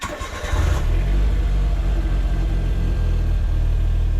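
A cold Suzuki engine cranks briefly, catches and settles into a steady, loud, close high idle with a deep rumbling drone and no voices.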